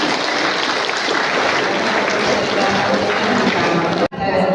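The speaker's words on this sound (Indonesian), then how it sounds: "Ya, kita berikan tepuk tangan." Loud, dense applause from a group gathered for a military commander's visit to a district command, sustained and even before stopping abruptly near the end.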